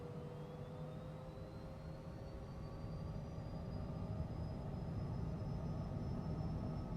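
A small airplane on takeoff roll and climb, with steady engine drone and broadband rumble that builds louder toward the end, on a bumpy departure from a desert airfield.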